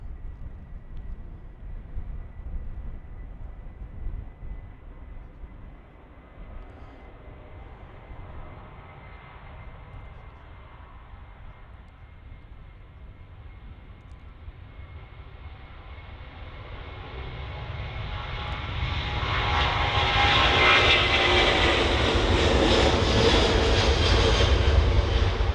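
A nine-year-old Airbus A330 airliner departs Manchester Airport, its engine roar rumbling at a distance before swelling into a loud, broad takeoff thrust that dominates toward the end.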